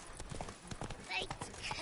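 Roach, Geralt's horse in The Witcher, runs with quick rhythmic hoofbeats, fairly faint, mixed with game effects and someone talking over it.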